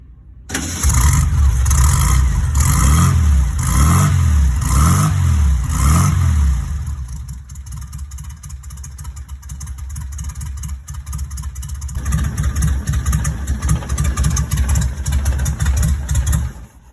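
A car engine cranks with rhythmic pulsing starter turns, catches, then settles into a steady idle that briefly rises in pitch later on.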